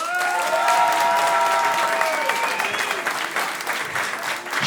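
Applause from a comedy club audience at the Jamel Comedy Club, loud, dense and sustained, with a few whistles and cheers on top.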